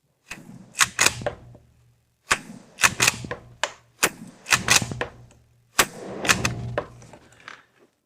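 Benelli M3 shotgun firing several loud, sharp shots, mostly in quick pairs separated by short pauses, each blast ringing out briefly.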